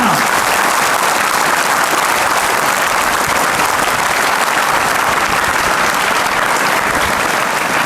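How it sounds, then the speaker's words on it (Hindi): Audience applause at a school event, loud dense clapping that continues steadily throughout. "ये आपकी तालियां बता देनी चाहिए सर आपके नाम"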